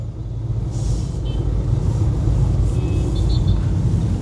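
Heavy trucks in congested traffic on Honorio Lopez during a clearing operation, a loud continuous low engine rumble with faint hissing and squeaks above it.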